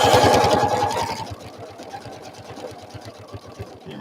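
A sewing machine stitching closely around small rhinestones, its needle pulsing in a fast steady rhythm, loud and busy at first and then settling into a quieter, even patter.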